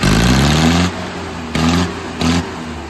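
An Arjun 605 tractor engine rising in a loud, rough rev, then dropping back to a lower idle before two more short blips of throttle, heard up close with no talk.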